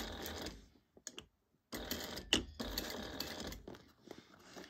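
A sewing machine stitches a bag seam from corner to corner with back stitching, running in close, buzzing bursts that stop and restart, with a short silent pause between runs.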